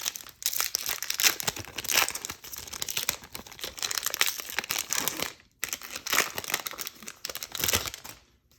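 A Time Spiral Remastered booster pack wrapper being torn open and crumpled by hand, with close crinkling and ripping in repeated bursts, one short pause, then more crackling foil.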